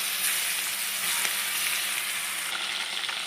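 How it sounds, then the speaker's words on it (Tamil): Curry leaves and a ground paste of green chilli, coriander and ginger frying in a pan for coriander rice, giving a steady, close hiss of sizzling with no voices. "கருவேப்பிலை போட்டு பச்சை மிளகா கொத்தமல்லி இஞ்சி அரைச்சி வச்சது போட்டு"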